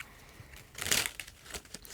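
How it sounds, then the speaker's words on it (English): A deck of Rudolph-themed playing cards is shuffled during a card reading, giving a brief papery riffle that swells for about a third of a second and then leaves a few faint crisp flicks, quiet and close. "One more little shuffle here."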